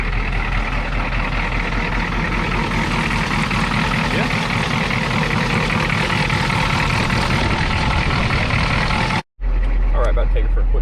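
A 1987 Ford F350 pickup with a 6.9 IDI diesel idles steadily with a constant low rumble and clatter, loud and close, cutting out briefly near the end before resuming, with someone talking over it.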